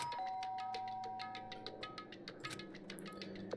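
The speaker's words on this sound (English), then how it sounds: "Byakuya stood in front of her door, not making a sound, and pressed the doorbell." A doorbell rings in the video game Danganronpa: Trigger Happy Havoc, a bright chiming tone over a quiet backdrop of soft ticking and faint background music, heard alone without voices.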